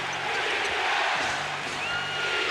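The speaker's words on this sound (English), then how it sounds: "This crowd on its feet." A basketball arena crowd at an NBA Finals game between the Los Angeles Lakers and Detroit Pistons roars on its feet, a dense, sustained wall of cheering that stays loud throughout.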